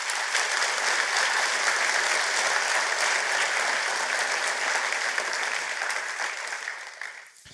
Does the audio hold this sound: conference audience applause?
yes